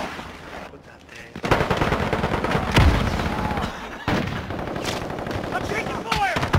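Rapid automatic gunfire and sharp single shots crackle through a Call of Duty firefight, loud and near, with bursts rolling on for several seconds over ambient battle noise, and a player speaking over the shooting.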